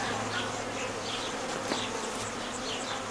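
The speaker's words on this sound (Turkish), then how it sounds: "Bak şöyle duman verdiğimiz zaman arı aşağı iner" Dense, steady buzzing of many honey bees swarming close by around a hive being smoked, a continuous humming drone with no voices.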